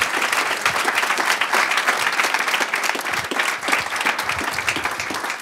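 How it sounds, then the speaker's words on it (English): A crowd at a New York enterprise tech meetup claps in a loud, thick burst of applause that stays strong across the full stretch, with individual claps blurring together and no voices over it. "huge round of applause"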